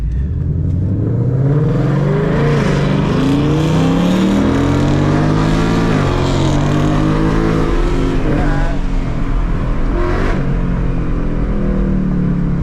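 Ford Mustang driving at a late-night car meet, its engine droning loud and close with rising revs and gear shifts throughout, a steady in-car roar.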